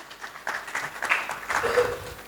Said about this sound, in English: I want all of you to clap for yourself